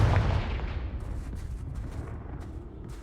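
A fiery explosion spell goes off in a wizard video game: a single heavy boom at the start that rolls into a long, rumbling decay and fades over a few seconds.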